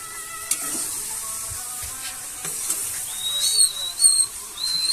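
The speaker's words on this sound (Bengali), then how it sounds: "প্রায় রেডি হয়ে গেছে, কষা চলছে এখনো, মানে ভালোভাবে কষা চলছে" Kuche eel fish sautéing in a pan, a steady low sizzle and hiss running throughout, with occasional stirring scrapes and faint high whistling tones, fairly close and without talk.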